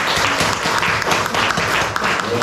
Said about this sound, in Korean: 우리 다 같이 박수로 한번 환영하겠습니다